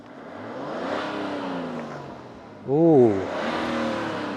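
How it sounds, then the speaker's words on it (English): A BMW 640d with a diesel straight-six engine revs up once sharply from idle and settles back, heard close by with a brief exclamation from a person. "It's got that classic diesel straight 6 tone."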